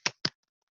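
Two quick, separate hand claps close by in a quiet room, closing a Korean university geography lecture; each clap is sharp and brief, followed by silence.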